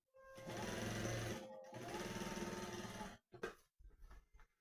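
A sewing machine runs two steady stitching bursts of about 1.5 seconds each on a blouse panel in a tailor's shop, close and loud, then a few short clattering stops and starts.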